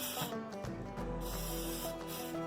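A steady pressurized hiss of an olive oil spray can sounds continuously, slightly sputtering and uneven as the can runs low.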